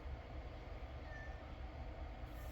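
A cat meows continuously over a steady, dense background noise, with no talking.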